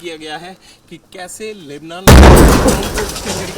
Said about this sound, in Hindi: तो ये धमाके की आवाज जिसे साफ तौर पर आप सुन पा रहे थे